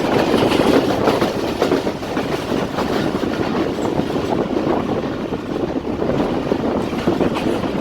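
Jaffar Express passenger train speeding on the rails between Lalamusa Junction and Jhelum Junction in Pakistan, a loud, continuous close rumble with rhythmic clickety-clack of wheels over rail joints and wind buffeting throughout.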